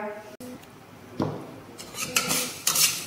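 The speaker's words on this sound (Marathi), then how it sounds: "आता आपण पुढचं मेथ्या भाजूया।" Fenugreek seeds are dry-roasted in a metal pan for a chutney: a few scattered clinks and scrapes of utensil on metal and light rattling of seeds, moderately close, the scraping growing busier toward the end.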